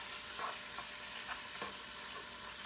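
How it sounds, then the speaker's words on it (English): Small petite shrimp frying in hot oil in a pan for shrimp fried rice, a steady close sizzle with occasional scraping stirs of a spoon, no talking. "We're going to add our shrimp and we're going to cook them to their pink."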